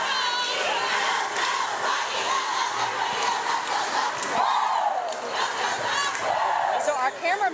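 Sorority girls at a university homecoming parade cheer and chant up close, a dense crowd of high, excited voices shouting in rhythm, steady and loud throughout.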